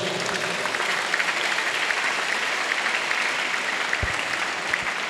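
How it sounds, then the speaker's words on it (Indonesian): Applause from a school audience for the P5 teachers at SMKN 2 Kebumen, a dense sustained clapping from a crowd, steady and fairly close for the whole stretch. "Tepuk tangan untuk Bapak Ibu Guru P5."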